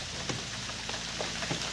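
Steady rain pours down outdoors in a heavy, continuous hiss, with scattered louder drops and spatters across a constant wash and no voices.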